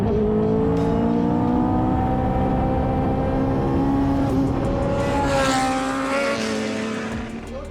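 A powerful Lotus Evija all-electric hypercar roars steadily and loudly at close range, its pitch rising and falling as it revs, with a brief squeal of tires.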